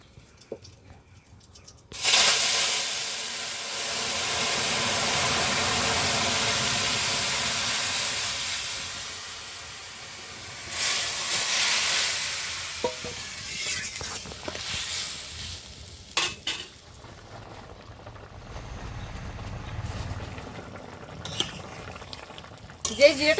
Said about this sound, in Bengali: তেল কিন্তু খুব গরম হয়ে গেছে ওর মধ্যে কটা গোটা জিরে দিয়ে দিই এবার ঢেলে দেবো তরকারি